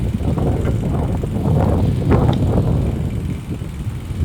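Outdoor wind buffets the microphone with a loud, steady low rumble and irregular gusty thumps, continuous throughout with no voices.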